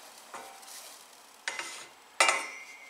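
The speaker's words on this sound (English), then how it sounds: "I have a quarter cup, that's 4 tablespoons of butter that I'm melting over a medium-low flame." Butter melts in a saucepan over a medium-low flame, giving a quiet, faint sizzle broken by three short scraping stirs that grow a little louder, with no voices.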